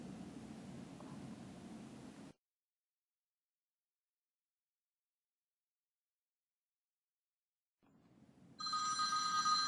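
A telephone ringing for a call-in show, heard after a stretch of silence: a brief hiss, then a bright electronic ring at the end.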